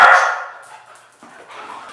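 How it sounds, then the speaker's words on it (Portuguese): A dog gives a single loud bark up close, followed by softer yips and whimpering sounds after a brief pause. "O Neno, além de ser um cão cocheiro, também é um cão cuequeiro"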